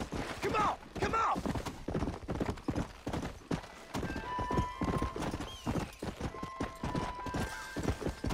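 Horse hooves clip-clop at a walking pace in the Red Dead Redemption video game, a steady rhythmic clatter with a horse whinnying and snorting, while someone talks over it.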